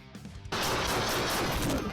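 A shotgun fired at a police officer, heard as one sudden loud broadband blast partway through that cuts off quieter background noise and leaves a sustained harsh noise wash behind it.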